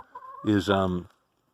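A chicken lets out a single drawn-out cluck, close and fairly loud, followed by silence.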